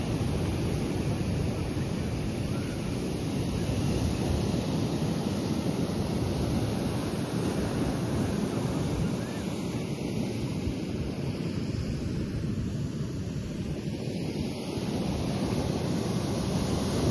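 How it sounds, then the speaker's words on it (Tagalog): Fairly high ocean waves at a beach roll as a steady, broad roar, mixed with wind buffeting the microphone and no voices. "medyo mataas ang alon"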